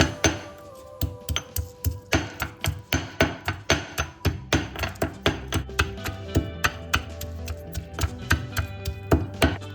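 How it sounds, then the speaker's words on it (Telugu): Garlic and chili powder pounded with a pestle for a spicy Andhra egg fry, steady heavy thuds in a regular rhythm, close and loud, with a short pause before the pounding resumes. "ఫస్ట్ తెల్లుల్లిపాయలు దంచుకోవాలి, తర్వాత దీంట్లోనే కారం వేసి దంచేసి పక్కకు తీసుకోవాలండి"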